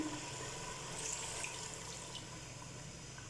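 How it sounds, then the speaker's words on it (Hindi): Water is poured into a pot of browned chicken while cooking chicken palak. The pour makes a faint, steady gushing splash close by, with no talk over it. "अब हम इसमें डालेंगे पानी ताकि गोश्त में कोई कसर है तो वो बाकी ना रहे। पानी डाल देते हैं"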